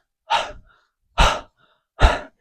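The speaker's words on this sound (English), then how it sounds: "when you're exerting, that's when you breathe out." Three forceful breaths, each a short burst of air with pauses between, from a person during calisthenics exertion such as pull-ups, close to the mic.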